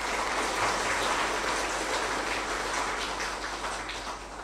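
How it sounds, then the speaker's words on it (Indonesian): Sustained applause from an audience at an Indonesian Ministry of Energy and Mineral Resources gathering honouring former minister Arifin Tasrif, a dense, steady clapping wash that fills the whole stretch and tapers slightly toward the end. "Kita berikan aplaus kepada Pak Arifin"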